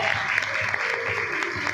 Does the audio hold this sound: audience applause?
yes